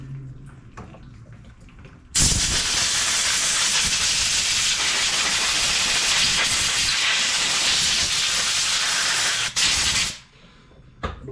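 Compressed air blasts loud and continuous for about eight seconds, blowing dust off the carburetor of a Honda HRR216 push mower, then cuts off abruptly.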